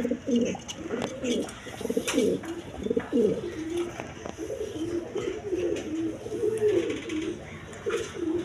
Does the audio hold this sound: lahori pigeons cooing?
yes